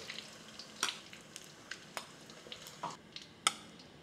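Hotdogs frying in a pan, a soft steady sizzle broken by a few light clicks and taps of a utensil, fairly quiet and close.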